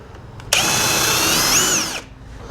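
A power drill bores into a metal part on a BSA motorcycle, cutting out old witness marks in a single steady whine of about a second and a half, loud and close, with faint tapping before it.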